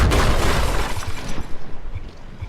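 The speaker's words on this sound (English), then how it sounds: "It's trying to shoot through its own deck." Warship in the From The Depths naval combat game blasting through its own deck, a loud crashing burst with shattering debris that rumbles and decays over a couple of seconds.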